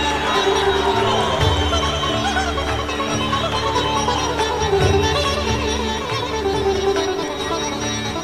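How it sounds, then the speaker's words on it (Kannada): A crowd at a Karnataka chief minister's swearing-in ceremony claps and cheers in a dense, sustained wash of applause and voices, loud and continuous throughout. "ಚಪ್ಪಾಳೆಯೊಂದಿಗೆ"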